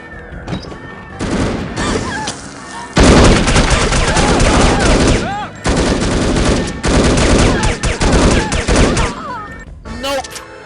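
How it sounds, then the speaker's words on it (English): Bursts of rapid gunfire using phosphorus rounds in No One Lives Forever, loud close volleys separated by brief pauses, with sharp cracks and fizzing tails. "someone's using phosphorus rounds"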